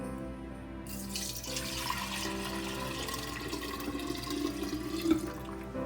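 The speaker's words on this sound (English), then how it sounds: "you pour it in here. You pour it in a jar." Homemade ginger beer pours steadily into a jar with a gurgling, splashing rush, rising slightly in pitch as the jar fills, close and fairly quiet, with no talking.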